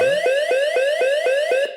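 A loud electronic alarm siren from an OPAX ARD-2545 wired/wireless alarm panel, triggered by a wireless motion detector, wails in rapid rising sweeps, repeating several times a second before cutting off abruptly.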